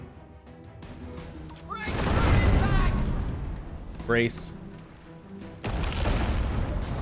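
Ship cannon fire and explosions in the naval combat game Abandon Ship, a loud broadband blast swelling then fading, a sharp second impact midway, and another burst near the end, with someone talking over the battle.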